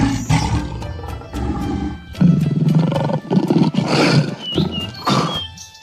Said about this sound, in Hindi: तभी झाड़ियों से राजा बाघ की दहाड़ सुनाई दी